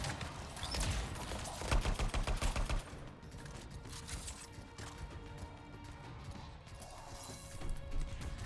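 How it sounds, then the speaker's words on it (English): A blade launcher weapon firing in Anthem, a rapid string of sharp metallic bursts pulsing loudly for a couple of seconds, then fainter mechanical clatter and scattered impacts over game ambience. "That is the blade launcher. Did not mean to use that."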